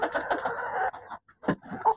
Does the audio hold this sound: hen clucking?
yes